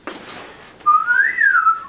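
A single person whistles a clear tone that rises smoothly in pitch and then falls back, a short, loud and close phrase after a brief soft breathy onset.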